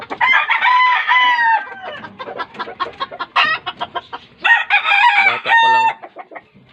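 A rooster crows loudly and close by, twice, each call a long strained cry, with bursts of clucking from other fowl filling the gaps between crows.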